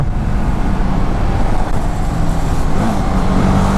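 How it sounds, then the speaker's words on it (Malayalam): Loud, continuous rumble of busy road traffic, engines droning close by with passing vehicles and a brief tonal hum near the end. "വണ്ടി വൻ സീന് കേട്ടോ തിരക്കുള്ള റോഡാണ്"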